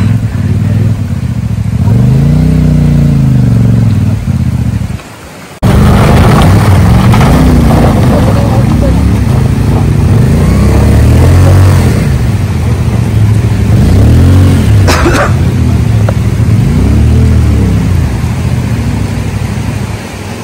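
A Royal Enfield Bullet motorcycle revs hard on an extreme off-road trail in Limi Valley, the loud engine rising and falling in repeated surges of throttle, with a brief cut-out early on before the engine roars back.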